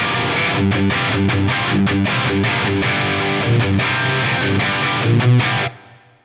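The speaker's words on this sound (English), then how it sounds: "Maybe let's go for clear with the plate reverb." Distorted electric guitar plays chords and riffs in a steady rhythm through a TC Electronic G Major 2 plate reverb, ending with a reverberant tail that fades out after the playing stops.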